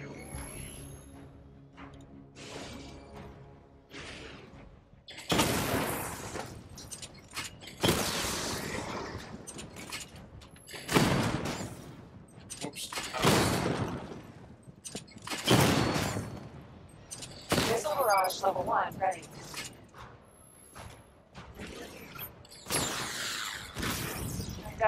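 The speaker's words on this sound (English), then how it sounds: "Destroy targets to charge up weapon energy and activate missile barrage." In Batman: Arkham Knight, the Batmobile's weapon fires at targets with heavy, roaring bursts and mechanical whirs in long waves, separated by quieter gaps and broken by occasional sharp impacts.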